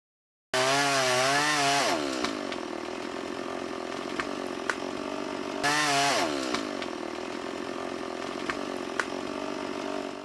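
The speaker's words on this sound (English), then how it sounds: "The chainsaw roars to life, its blade slicing through the thick trunk with impressive power." A handheld chainsaw revs hard while cutting through a thick tree trunk, a loud continuous buzzing engine roar that rises in pitch twice as the throttle opens and bogs down into the wood.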